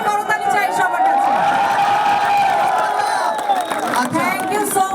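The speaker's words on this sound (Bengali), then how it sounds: "একটা জোরে করতালি চাই সবার কাছে।" An audience at a grand Bangladeshi community event in Dammam claps and cheers loudly in a dense, continuous roar, with whoops and raised voices mixed in close to the microphone.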